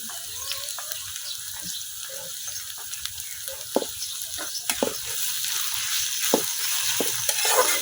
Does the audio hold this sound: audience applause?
no